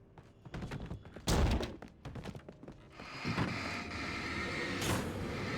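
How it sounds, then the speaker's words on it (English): Flashbang grenade in the Alan Wake video game, a sharp loud bang burst after scattered thuds, followed by a sustained bright ringing hiss that lingers. "Flashbang. Don't mind if I do."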